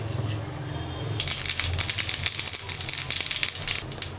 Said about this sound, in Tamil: எண்ணெய் நல்லா சூடேறினதும் கடுகு கொஞ்சம் சேர்த்துக்கிறேன்